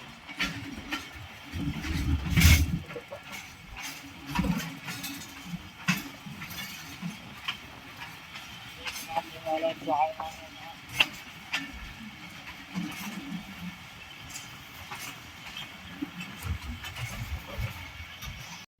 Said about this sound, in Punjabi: ਗੱਡੀ ਦਾ ਕ੍ਰਾਸ ਪਿਆ ਜਨਾਬ ਮਾਲ ਗੱਡੀ ਨਾਲ, ਨਹੀਂ ਜੀ ਕੰਟੇਨਰ ਟ੍ਰੇਨ।